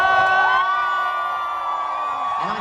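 Concert crowd at a show in Munich cheering and whooping loudly and steadily, a dense mass of voices with sustained tonal shouts throughout.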